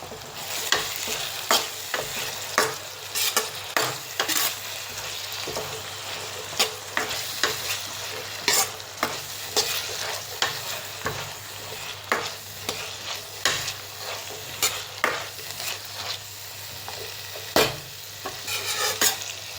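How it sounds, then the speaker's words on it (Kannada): Two to three onions and four or five green chillies frying in a pan for egg bhurji, a continuous sizzle punctuated by frequent sharp scraping and stirring clacks of a spatula, close and steady throughout. "ಈಗ ಈರುಳ್ಳಿ ಫ್ರೈ ಆಗಿದೆ."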